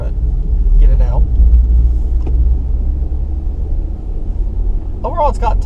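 A 2006 Infiniti G35x with 200,000 miles, running down a cylinder, pulls away with a low, heavy engine rumble that stays steady and close; brief bits of voices come through over it.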